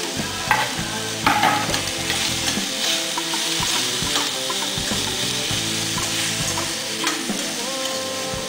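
Pork liver frying in a pan with bay leaves and chilies for bopis: a steady, close sizzle with scraping stirs and occasional clinks, no voices.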